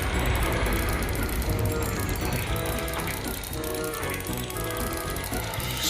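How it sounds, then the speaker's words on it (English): A rolling bridge in a Thomas train game is wound up with a rapid, continuous mechanical ratcheting clatter, steady and fairly loud throughout. "Would you wind up the bridge so it can pass?"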